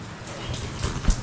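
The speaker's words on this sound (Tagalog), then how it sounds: "Nako yung ulan. Talagang hindi na tumila mga kautol." Steady rain that won't let up falls in bad weather, a continuous soft hiss with occasional heavier drops and low thumps, fairly quiet and even throughout.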